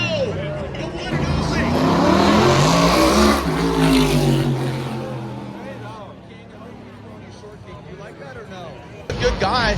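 A Red Bull race car revs and roars at a street showrun in San Francisco, engine swelling loudly then fading as it moves off, with a crowd and an announcer's voice over it.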